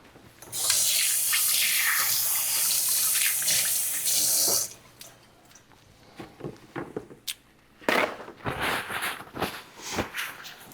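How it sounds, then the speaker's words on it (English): Water from a kitchen tap rushes steadily for about four seconds as hands are washed underneath, then cuts off and gives way to light splashes, drips and clatter at the sink. "I'm going to just wash my hands here."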